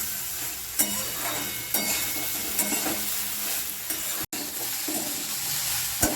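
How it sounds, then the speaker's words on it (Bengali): Soya chunks frying in oil left from frying potatoes make a close, continuous sizzle, with spatula scrapes and stirring knocks about once a second and one brief cut partway through. "আলুটা ভেজে তুলে নিয়েছি, সেই তেলেতেই আমি সয়াবিনগুলো একটু ভেজে নিচ্ছি"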